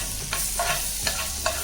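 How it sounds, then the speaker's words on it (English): Minced garlic sizzles in melted butter in a pan, a soft steady frying hiss broken by a few light scrapes of stirring. "we will add the butter which we have taken. The garlic clove which we have taken, we have to mince that and we have to add it"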